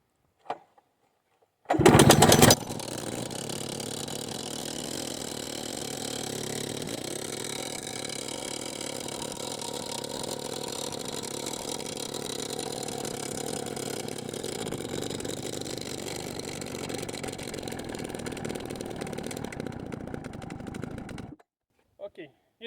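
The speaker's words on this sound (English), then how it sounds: "I throw so many rocks using this jackhammer, only jackhammer" A YN27 petrol rock drill jackhammer breaking rock on a work site gives a steady, loud engine drone for about nineteen seconds after an abrupt, louder burst at the start, then cuts off.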